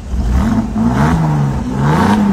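A used Mercedes car's engine revs loudly and close, its pitch climbing and dropping in smooth surges over a steady mechanical whir, with no talk.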